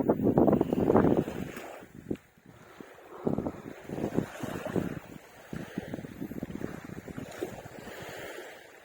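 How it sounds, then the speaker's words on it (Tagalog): Gusty wind buffeting the microphone at a rocky shoreline during shore casting, rough low rumbling bursts that swell and drop, mixed with surf-like wash. "Tapos, ang hangin."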